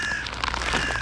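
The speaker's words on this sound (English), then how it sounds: "See, this crow is putting out the feeding call." A crow gives a feeding call outdoors on a very hot day, a brief harsh caw over steady background hiss, moderately near.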